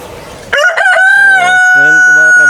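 A big rooster of about six kilos crows loudly and close, one long cock-a-doodle-doo that rises sharply and then holds its drawn-out final note on a farm.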